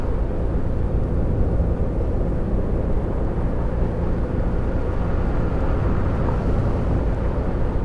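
Coach bus engine in a bus driving game, cruising on the open road: a steady, loud low drone with a dense rumble that holds unchanged, with no talk over it.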